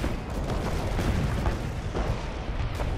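Dense, continuous gunfire and booming blasts from the online shooter game Renegade X, a steady loud barrage of shots and impacts with no voices over it.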